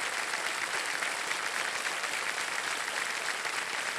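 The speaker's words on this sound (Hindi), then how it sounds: "तालियां बज जाए एक बार फिर।" Studio audience applause on a television quiz show after a contestant wins 50 lakh rupees, an even, continuous wash of clapping, fairly distant and steady without pauses.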